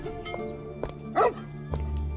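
A single short dog bark in the video game The Incredible Adventures of Van Helsing: Final Cut, one sharp yelp near the middle over a humming musical background and scattered knocks.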